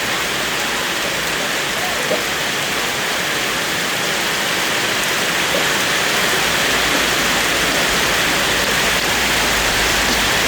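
Heavy rain pours down steadily outdoors while a grandmother cooks, making a dense, loud, unbroken hiss that stays constant throughout with no pauses.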